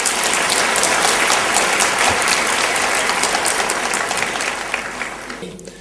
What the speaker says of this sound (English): let's give a warm round of applause to Yusuf Ismail